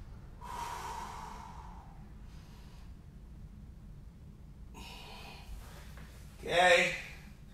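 Heavy breathing from a wrestler holding a bridge exercise during a practice session: a few loud, separate breaths and snorts over a quiet background, with one strong exhale toward the end.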